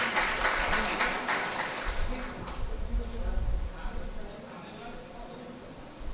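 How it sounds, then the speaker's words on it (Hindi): Dense crowd applause at an Independence Day function at a college in Bemetara, loudest in the first couple of seconds, then thinning into a steady background clatter that continues to the end. "एक बार जोरदार तालियां सर जी के लिए।"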